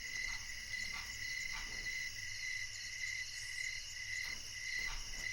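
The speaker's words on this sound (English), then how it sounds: "I'm pretty sure this specific cricket sound is probably not" In the Pop'n Music video game, a steady chorus of crickets chirps continuously, with shrill insect trilling layered over a faint low hum and occasional soft rustles. There is no talking.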